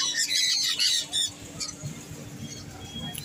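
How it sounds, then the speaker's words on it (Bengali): Sun conure parrot at a pet bird market, shrill squawks in quick bursts early on, then quieter background chatter and scattered calls. "এখানে রয়েছে সানকনুর"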